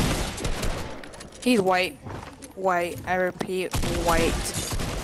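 Gunfire in Fortnite, rapid crackling shots and bursts running through most of the moment, close and dense, with excited voices talking over the firing.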